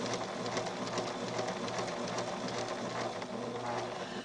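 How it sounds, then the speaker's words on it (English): A sewing machine fitted with an applique foot stitches doll fabric in a steady, rapid mechanical whir, close and continuous for several seconds with no talking. "Now I want to sew exactly on the purple line."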